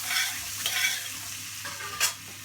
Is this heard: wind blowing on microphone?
no